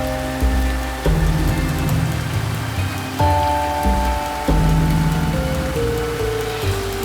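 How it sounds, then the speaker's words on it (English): Steady rain falls as a continuous hiss, layered with sustained tonal notes that shift every second or two. "The depressing, wetting rain."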